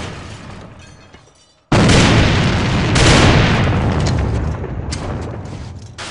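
A grenade goes off in the online shooter AVA, a sudden loud boom that cuts in after a near-silent gap and rolls on as a long, dense roar with further bursts.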